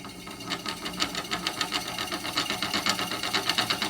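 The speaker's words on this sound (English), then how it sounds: "A motor." A small homemade electric motor spins rapidly with a steady, fast buzzing rattle, a regular pulsing whir that holds close and fairly loud throughout.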